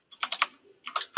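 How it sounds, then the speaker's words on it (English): Computer keyboard typing in two quick bursts of several close, crisp keystrokes separated by a brief pause, fairly faint. "I can hear you typing"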